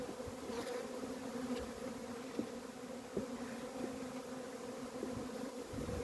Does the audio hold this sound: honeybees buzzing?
yes